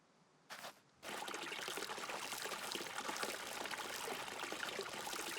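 Water spilled onto a farm plot in the game Scum pours in a steady, close rush after a short splash, running continuously until the end without any voices.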